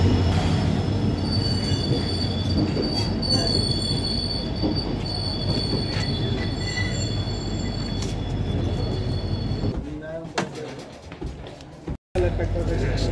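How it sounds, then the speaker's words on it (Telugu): A Devagiri Express train pulls into Aurangabad station with loud, sustained wheel squeal and heavy rolling rumble that continues for most of the clip before easing near the end. Voices are mixed in beneath it. "సో గైస్ ఇటు కానీ ఫైనల్గా మన దేవగిరి ఎక్స్ప్రెస్ అయితే వచ్చేస్తుంది."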